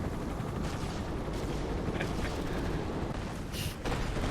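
Rapid bursts of gunfire and dull explosive booms from an airstrike in an Avatar video game form a dense, continuous battle din at moderate level, with a sharper blast near the end.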